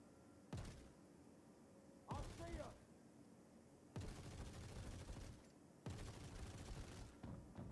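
Bursts of Star Citizen gunfire in a bunker fight, four or five loud broadband volleys of sustained shooting, each lasting about a second or more, separated by short quieter gaps of game ambience.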